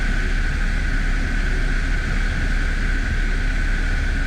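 Piper Cherokee light airplane flying the traffic pattern at about 2,000 RPM, a loud continuous engine and propeller drone with a steady tonal hum, heard close up from inside the cabin.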